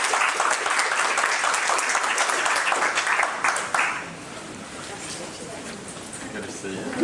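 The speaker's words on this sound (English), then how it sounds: "I'd like to invite you to give a round of applause for our presenters" Conference audience applauding the presenters: dense, steady clapping from a room full of people for about four seconds, then fading into murmured voices and chatter.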